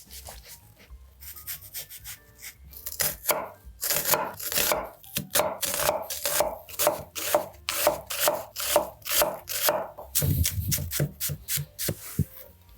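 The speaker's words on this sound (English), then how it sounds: "we're gonna put about a half of a red onion in there that we're gonna put a small dice on" A knife dices half a red onion on a cutting board in quick, even, rhythmic chops, close and crisp, with a brief faster flurry of cuts near the end.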